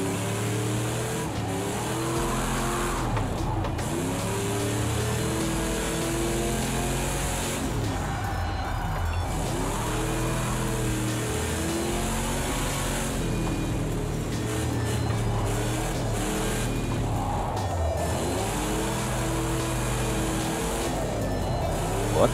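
A Camaro Z/28 engine drones steadily in a VR drifting game, its pitch rising and falling continuously as the car is driven, loud and unbroken with no talk.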